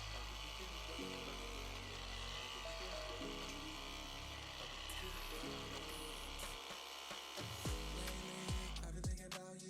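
A small Wix Wicks dreadlock machine running on the tip of a lock of hair: a steady electric buzzing whir with shifting pitch and a few clicks near the end.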